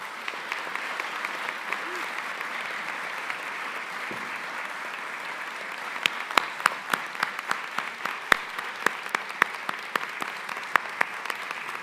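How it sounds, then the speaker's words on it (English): Audience at a 2024 honors convocation applauds the honorary students, steady clapping throughout with sharper individual claps and whoops standing out in the second half. "Please extend a round of applause for the"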